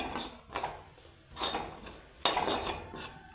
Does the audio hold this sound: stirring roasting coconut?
yes